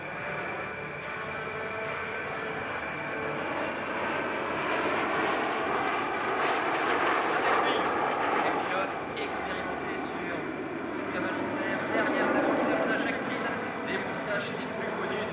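Four Fouga Magister jets of the Patrouille Tranchant fly at the Air Legend 2023 airshow, a continuous broad jet roar that stays loud and steady throughout, with a voice talking over it.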